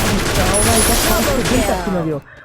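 MX-16 rifle gunfire in a video game, with a loud dense burst of rapid shots and echoing blasts packed together for about two seconds before cutting off abruptly.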